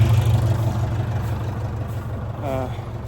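A tractor engine idles and runs steadily before hay raking, a low rumbling drone heard close and continuous, with a brief tonal whine near the end.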